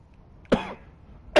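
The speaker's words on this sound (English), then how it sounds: "The Magister Guard snorts and sniffles as he sleeps. You're almost impressed that one man can make such a phlegmy racket." A sleeping Magister guard snorts and sniffles in Divinity: Original Sin 2, two short phlegmy snorting bursts separated by a pause, close and fairly loud against a quiet background.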